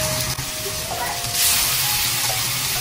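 Shrimp frying in hot oil in a pan, a loud close steady sizzle and hiss that swells briefly midway, with faint background noise and no clear speech.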